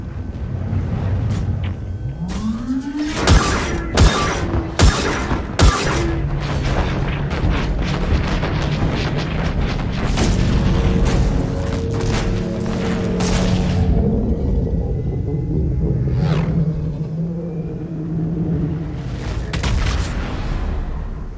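Ship weapons firing in a sci-fi space-battle video game: heavy booming blasts and explosions, several sharp, loud hits in quick succession over a continuous deep rumble, with more distant booms later.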